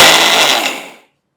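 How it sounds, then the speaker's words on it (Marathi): Mixer grinder whirring loudly close up as it grinds ingredients into powder for protein laddoos, a harsh high whine that winds down and cuts to silence after about a second. "झाकण लावायचं आणि मिक्सरला याची चांगली पूड तयार करायची."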